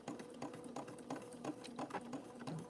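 A sewing machine back-stitches the lining into a crocheted bag, running in short, uneven bursts of rapid mechanical stitching with brief pauses between them, close and fairly steady in level.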